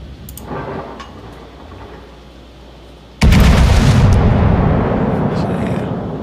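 New Mexico battleship guns fire in World of Warships. A sudden heavy boom cuts in midway and swells into a loud sustained roar, while quieter game ambience and a murmuring voice come before it.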